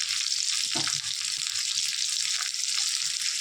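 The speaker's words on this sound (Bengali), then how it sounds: "ভালো করে লাল লাল করে আলুগুলো ভেজে নেব।" Potatoes seasoned with salt and turmeric fry in hot oil, a steady close sizzle with bright crackle running throughout, with a brief stir or clatter near the start.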